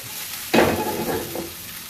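Tempeh and vegetables are flipped in a hot pan, a sudden burst of sizzling as food lands, then a steady crackling fry with a small second rustle, close and clear.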